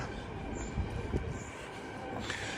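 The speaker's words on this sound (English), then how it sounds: "You can hear the trains on the West Coast Main Line." Trains running on the West Coast Main Line railway, heard unseen from a nearby path as a steady, fairly faint rumbling wash with a few soft knocks, continuous throughout.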